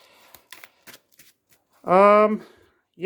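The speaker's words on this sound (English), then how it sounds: "I will shuffle her deck." Quick riffling and clicking of a Marvel Champions card deck being shuffled, brief and close, followed by a voice speaking.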